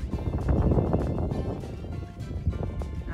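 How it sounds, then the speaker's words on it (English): Gusty wind buffets the microphone outdoors in Wyoming, producing a loud, close, rumbling low roar that swells and eases, with no clear talk. "And I apologize about the wind noise,"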